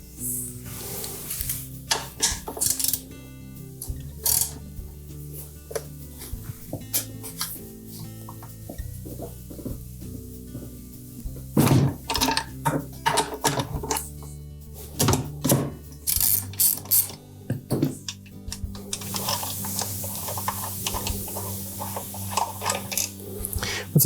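Tools working motor bolts loose on a Whirlpool washing machine transmission: close, irregular metallic clicks, ratcheting bursts and clanks of parts, with quieter pauses between the bursts of activity.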